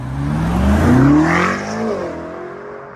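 A BMW M8 Competition with an Akrapovic exhaust, tuned past 800 hp, accelerates hard with a loud rising roar that climbs through gears, then recedes as the car pulls away into the distance.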